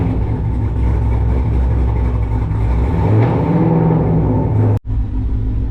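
A 1500-horsepower Jeep Trackhawk with a new exhaust setup rumbles and revs loudly and steadily up close, its deep engine note droning throughout with one brief cut near the end.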